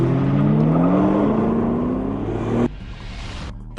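A Ford GT races a GTR and accelerates hard toward the finish line, a loud close engine roar climbing in pitch for over two seconds before cutting off abruptly into quieter rumble.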